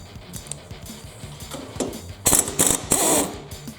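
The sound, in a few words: ratchet with 5/8 socket removing a bolt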